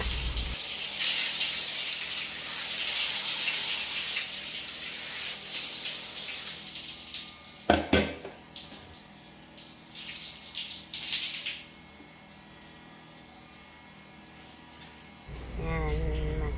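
Running water splashes steadily over dirty, blackened tiles during a bathroom scrub-down, a continuous near gush that thins out toward the end and then swells again, with a brief clatter midway.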